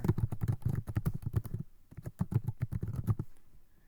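Quick bursts of typing on a computer keyboard as a course description is entered, crisp close key clicks in rapid runs with a short pause midway, no talking.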